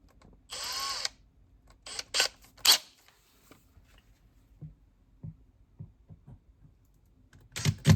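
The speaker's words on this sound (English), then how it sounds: "we are going to drill the hole now" Short bursts of a power drill fitted with a 3/16-inch bit whir on and off, followed by faint clicks and taps, then another brief drill burst at the end.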